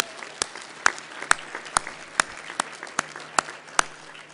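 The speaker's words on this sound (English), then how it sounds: "So give yourselves a round of applause." A small conference audience claps in a sparse, uneven patter of distinct handclaps, fairly close and alone, with no voices over it.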